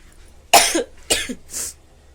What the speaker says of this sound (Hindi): सॉरी, अभी भी मुझे खांसी आ रही है